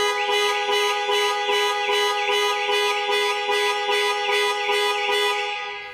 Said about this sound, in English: Press for 3 seconds or press 3 times in 3 seconds and the horn will sound and the hazard lights will